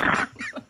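A short burst of voiced grunting imitates a pig, a strong snort followed by two softer squealing grunts, close and alone.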